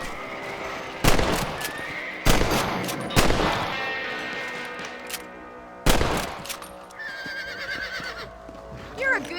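Rifle shots at rabbits in the video game Red Dead Redemption, four loud, sharp cracks spaced a second or more apart with ringing tails, over faint ambient music, and a horse snorts near the end.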